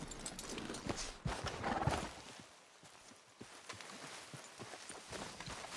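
Faint horse hooves clip-clop in a steady walking rhythm in Red Dead Redemption 2, quiet and somewhat distant, with no one speaking.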